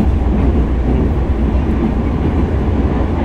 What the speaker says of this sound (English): We're on the way to we're on the Green Line right now.